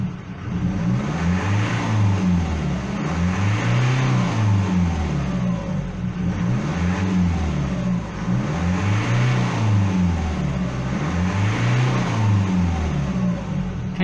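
A 2007 Ford Mondeo 2.0 TDCi diesel engine with excessive smoke, revved repeatedly in steady cycles, rising and falling roughly every two and a half seconds, close and loud with no talking.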